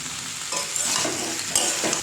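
A spice mixture is stirred and mixed in a hot pan, a continuous frying hiss with soft scraping strokes from a spoon or spatula every half second or so.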